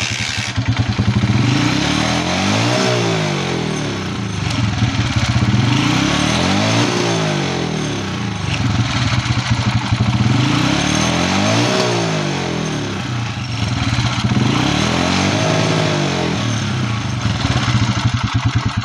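Skygo 125 motorcycle engine revved hard to high RPM over and over, each loud rising whine falling back before climbing again, close and steady with no talk.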